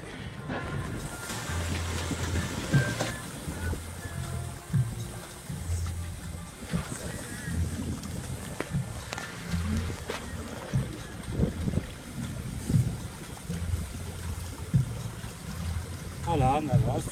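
A sailboat's diesel engine drones steadily low throughout alongside water sloshing and wind, with intermittent French speech over the motor.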